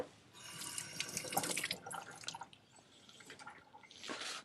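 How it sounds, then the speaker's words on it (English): A metal ring rinsed under a running tap at a sink, close splashing water that rises and falls in uneven bursts with drips, fairly quiet and without speech. "Little rinse off."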